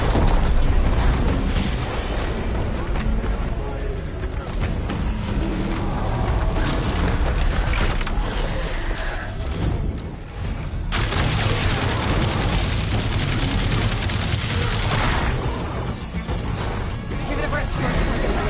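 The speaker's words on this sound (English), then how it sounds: "We can use their cannons!" Heavy cannon fire from a captured Ravager's mounted gun in Horizon Forbidden West, a dense, continuous barrage of booms and crashes that keeps up throughout, with game dialogue heard over the noise.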